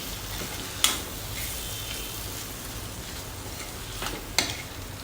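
Raw banana pieces seasoned with salt are stirred in a frying pan for a dry vegetable dish, giving a steady soft sizzle with two sharper scraping strokes of the spoon against the pan.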